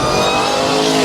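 A Dodge Demon 170 accelerating hard, its engine roaring loud and close in a steady, sustained rush with no pauses.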